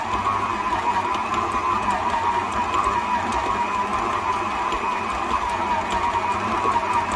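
Stand mixer kneading bread dough with a dough hook, a steady mechanical whirring drone with a faint rhythmic knock, continuous and close, with no talk.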